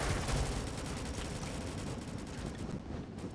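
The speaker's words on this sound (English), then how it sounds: "I couldn't survive that many bullet shots." Rapid gunfire from the arcade video game Rolling Thunder, a dense, continuous barrage of shots filling the whole stretch at a steady level with no speech.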